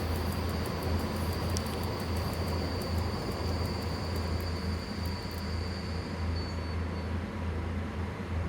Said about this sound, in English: And I have to stop my train here.